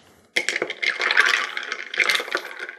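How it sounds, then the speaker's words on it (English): Ice cubes rattle and clink against a glass as a bourbon cocktail is stirred, a close, bright jangle that starts suddenly and continues for a couple of seconds. "And we'll give it a little stir."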